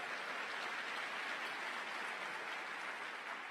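Church audience applause, a steady wash of many hands clapping at moderate, slightly distant level for a few seconds without any voice on top.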